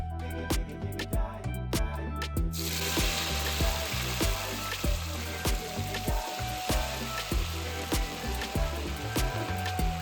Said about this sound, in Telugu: ఇప్పుడు ఇంక ఈ ముక్కల్ని డీప్ ఫ్రై చేసుకోవాలి.